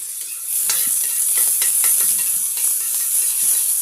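Onion leaves sizzle in cooking oil in a pan over a wood fire, a bright steady hiss with repeated scraping strokes as they are stirred. The sound is loud and close, with no talking.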